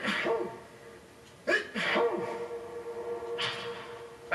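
A man sneezes into a blue-dyed handkerchief, with two or three sharp, explosive bursts spread across the moment, close and fairly loud, separated by quiet breathing.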